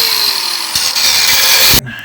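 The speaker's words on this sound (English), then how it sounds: "so I switched to my Sawzall and finished it off" A reciprocating saw trims a steel bracket near the differential mount during a suspension lift install on a 2021 Ford Ranger FX4, running loud and close with a harsh buzzing whine for nearly two seconds before cutting off abruptly.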